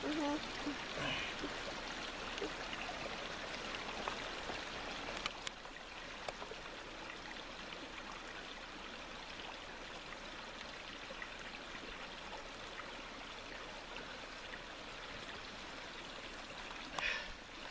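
A mountain stream flows steadily outdoors, a continuous close trickle and babble of water filling the scene, with brief faint sounds over the constant rush.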